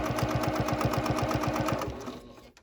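A sewing machine bastes layers of fabric together with a quarter-inch seam allowance for a zippered bag exterior: a fast, steady run of even stitching pulses, close and clear, that slows and stops near the end.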